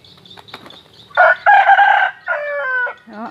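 A rooster in a farm coop in the late afternoon crows loud and close, one full drawn-out crow with a few softer clucks around it.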